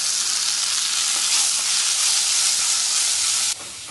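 Onions and tomatoes sizzle while sautéing in a home-kitchen pan, making a loud, steady frying hiss that drops slightly near the end, with no talking over it.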